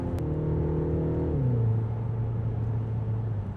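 A Mini Countryman SUV's engine drones steadily up close, its pitch stepping down midway as it shifts, with synthesized exhaust pops piped through the cabin audio barely standing out.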